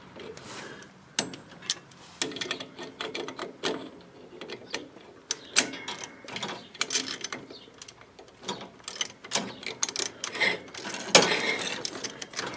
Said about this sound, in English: That's going to tighten this bolt that's holding this variable pit pulley up here.